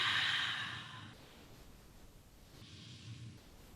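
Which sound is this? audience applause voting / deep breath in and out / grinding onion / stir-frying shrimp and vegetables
deep breath in and out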